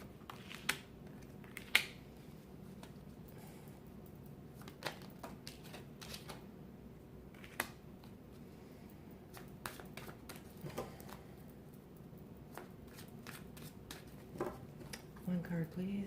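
Tarot-style cards being shuffled and drawn for a reading, with frequent soft flicks and sharp snaps close by, irregular and quiet over a faint background.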